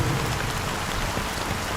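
Steady, dense rain falls in the game Honkai Star Rail, an even close hiss that fills the whole short stretch with no voices.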